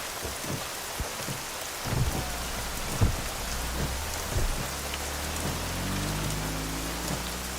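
Heavy rain pours steadily with rolling thunder, a dense constant downpour with low rumbles swelling in and out; a low sustained engine-like drone comes in partway through, and no one speaks.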